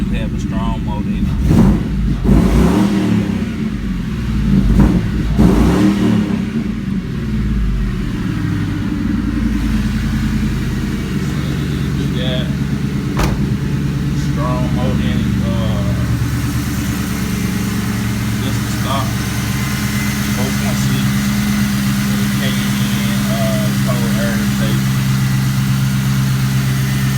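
A New Edge Mustang with a swapped V8 rumbles loudly up close, with a few revs early on before settling into a steady, deep idle. Voices are heard faintly at times.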